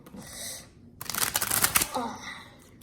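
Slippery transparent plastic tarot cards riffled together in one quick burst of dense clicking, close up, with quieter handling before and after.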